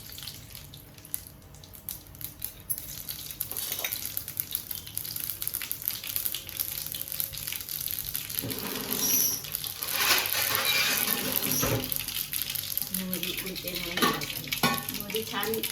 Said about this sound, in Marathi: आता मी फोडणी करते. ह्याला फोडणीसाठी तेल तापल्यानंतर मोहरी,